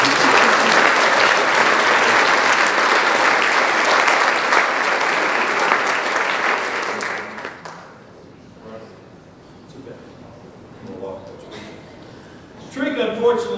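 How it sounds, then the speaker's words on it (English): A school spring sports awards crowd bursts into loud, sustained applause, many hands clapping at once for several seconds before it tapers off into quieter room noise and scattered sounds. "let's give her a round of applause."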